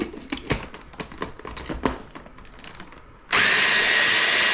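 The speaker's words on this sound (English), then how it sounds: "I'm gonna let it chop until it's relatively fine and starts to form a bit of a paste" A food processor chops garlic, pine nuts, parmesan and basil into pesto. A few scattered knocks and clicks give way to the motor suddenly kicking in with a loud, steady whirring roar that fills the final second.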